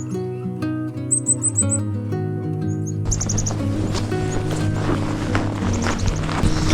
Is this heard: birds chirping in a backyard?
yes